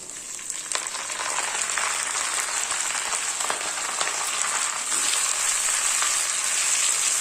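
Drumstick leaves sautéing in ghee in a pan, a dense continuous crackling sizzle with occasional stirring clicks, fairly loud and close throughout.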